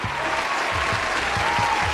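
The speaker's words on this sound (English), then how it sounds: "round of applause." A crowd gives a steady, continuous round of applause on a commentary show, with the dense wash of clapping holding at an even loudness for the whole stretch and a faint low rhythmic thump underneath.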